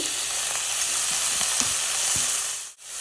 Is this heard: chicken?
no